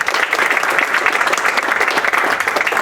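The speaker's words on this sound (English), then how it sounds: "So another round of applause." Audience applause at a United Nations Human Rights Council event, a dense, even wash of clapping from a sizable crowd that holds steady and loud for the whole stretch.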